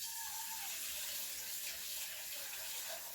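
Tap water runs steadily into a sink as an item is rinsed in cold water during cold process soap making, a continuous close splashing flow with no talk.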